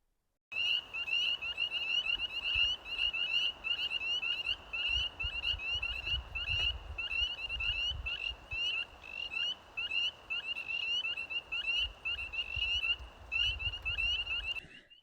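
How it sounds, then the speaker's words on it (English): Dense chorus of frogs chirping continuously, high-pitched repeated calls layered over a low outdoor rumble, steady throughout with no talking. "hear these frogs chirping"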